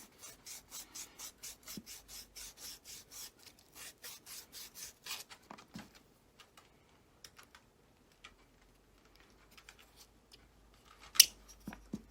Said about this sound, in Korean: 여기를 잘 갈아줘야 돼요. 한 번씩 갈고 끼워보고 몇 번 반복합니다.